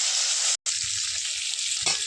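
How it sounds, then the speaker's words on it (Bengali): Koi fish frying in hot oil in a wok, a steady dense sizzle with faint crackles, broken by a brief silent gap and a small spatter near the end. "এবারে মাছটা ভেজে নেবো ভালো করে।"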